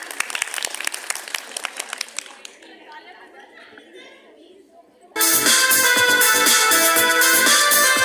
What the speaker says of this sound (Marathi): सर्वांनी टाळ्या वाजवायच्या आहेत